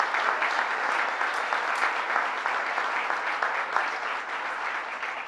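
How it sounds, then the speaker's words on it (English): Audience applause for Senator George Amedore at a public announcement event with Governor Cuomo, steady dense clapping from a sizable crowd sustained for several seconds without a break. "Let's give him a round of applause."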